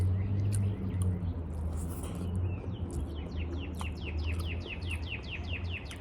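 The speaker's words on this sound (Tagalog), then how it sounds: "Mga ibon." Birds outdoors chirping in a quick repeated series of short sharp tweets, moderately near, over a steady low hum and background ambience.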